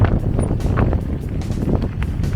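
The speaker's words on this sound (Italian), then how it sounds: "Oggi anche siamo accompagnati da un bel vento" Strong wind over the Venetian lagoon, a loud continuous buffeting roar with rumbling gusts that batter the microphone throughout, with no voices.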